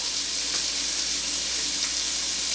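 Steady, dense sizzling of bacon frying in a hot pan, a constant crackling hiss with no talking.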